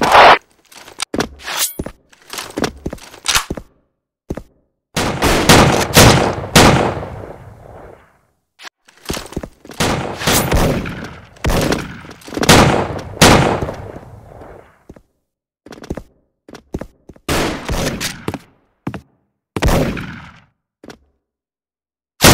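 Sniper rifle shots from a first-person shooter game with an M14 EBR-style weapon, a series of sharp, loud, close blasts with echoing tails, spaced irregularly among other game effects and bursts of noise.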